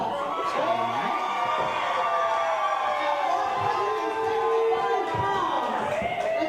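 A wrestling crowd reacting to Scotty Mack at an ECCW show: a dense, loud, continuous roar of voices with shouting and jeering rising and falling through the arena.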